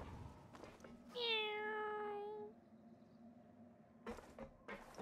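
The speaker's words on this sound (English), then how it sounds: "Oh, hey, there's a cat." A cat in the Genshin Impact video game gives a single clear, drawn-out meow, preceded and followed by soft game ambience and brief clicks.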